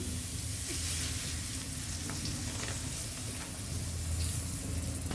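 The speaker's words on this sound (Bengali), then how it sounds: "এখানে আমি পেঁয়াজ কুচি দিয়েছি, এরপর আমি এটাকে কষাই নেব। এখানে আমি সরষের তেলটা দিয়েছি।" Chopped onion fries in mustard oil in a pan, an even, continuous sizzle at moderate level with a low background hum and no break.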